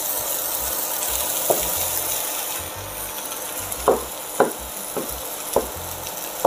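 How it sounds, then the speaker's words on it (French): Onions sweating in a frying pan for tartiflette, a soft steady sizzle with a few sharp scraping clicks from a utensil stirring against the pan, close by. "Nos oignons ont bien sué."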